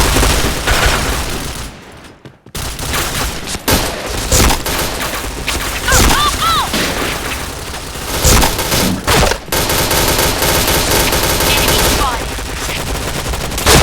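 Rapid automatic gunfire bursts from the shooter video game Point Blank, loud and dense throughout, with brief pauses and sharp single shots punctuating the fusillade, a voice briefly calling out over the action.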